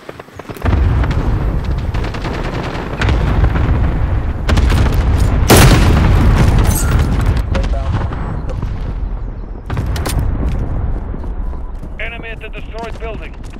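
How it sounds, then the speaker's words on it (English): Rumbling cluster strike explosions in the shooter Call of Duty Modern Warfare, a chain of heavy booms and crackling blasts over several seconds amid gunfire, with radio voices talking over them. "Friendly cluster strike inbound."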